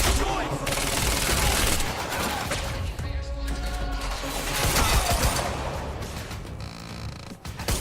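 Gunfire in the video game Quantum Break, loud rapid bursts and crashing impacts rolling almost nonstop, with a voice speaking over parts of the fighting.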